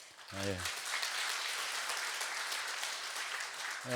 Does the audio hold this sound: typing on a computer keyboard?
no